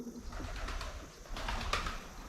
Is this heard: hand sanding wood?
no